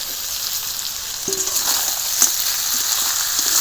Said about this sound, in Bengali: এবার ভালো করে আরও দশ মিনিট মতো কষাবো